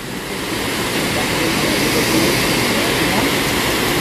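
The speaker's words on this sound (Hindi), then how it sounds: "वाटरफॉल का आवाज सुनिए भाई लोग" A waterfall on the outskirts of Ranchi rushes in a steady, loud, broadband roar that fills the whole clip with no break.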